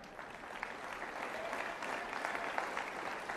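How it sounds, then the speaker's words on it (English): Light, scattered applause from a small audience, faint and somewhat distant, a thin patter of individual claps sustained for a few seconds before cutting off abruptly. "Literally the definition of a spattering of applause."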